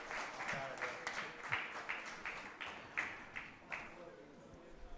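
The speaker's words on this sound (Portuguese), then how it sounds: "para a qual solicito uma salva de palmas" Applause in a municipal council chamber session in Mogi Guaçu, a moderate round of clapping with distinct uneven beats, fairly quiet and steady, with voices underneath.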